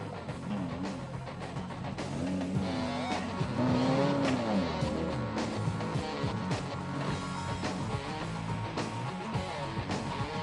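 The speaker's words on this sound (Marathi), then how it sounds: "डोंगर वाटांमधून जात वाटेतल्या नद्या नाले ओलांडत ड्रायव्हिंग करण्याचा थरार 50 स्पोर्ट्स कार चालकांनी अनुभवला." Sports cars race along a hill rally route over mountain roads and stream crossings, engines revving and roaring continuously at close range, with occasional tire noise.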